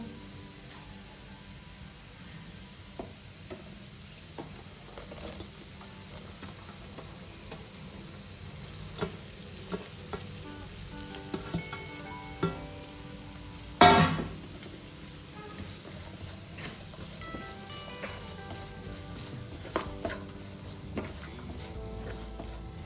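Ridge gourd pieces fry in a pan with onion during home lunch cooking, giving a soft, steady sizzle with scattered stirring clicks and one sharper scrape partway through, with no voices.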